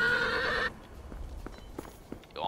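A horse neighs in a video game, a loud whinny at the start followed by softer clopping hoof sounds and another rising neigh at the end, with no talk over it.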